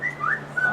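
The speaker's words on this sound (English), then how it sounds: "Apologize for my phone." A phone notification chime sounds as a few short, bright tonal blips over a steady low hum, brief and moderately loud with no talking.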